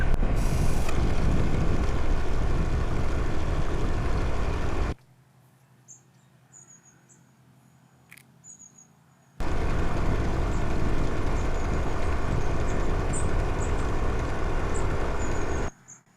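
A homemade Stirling engine-powered bicycle rides along with its clutch engaged, giving a loud, steady broadband whir and rumble that cuts out into near silence for several seconds, then resumes at full level.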